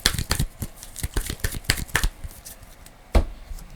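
A deck of Marvel Champions game cards is shuffled by hand. Several quick, crisp riffling bursts come close up in an uneven rhythm, with a lone sharp snap near the end and no voices.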